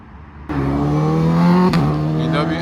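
A loud 1.4-litre VW Lupo bursts into a close, aggressive rev at a Japanese car meet in Reading, holding a buzzy, rising engine note that drops briefly and then keeps droning, with no talk over it.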